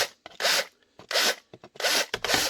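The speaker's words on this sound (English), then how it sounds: "Deburr the holes inside and out." Drilled holes in a Sig P320 RX Compact part being deburred by hand, giving repeated short scraping rasps in a steady rhythm with brief pauses between strokes, close and clear.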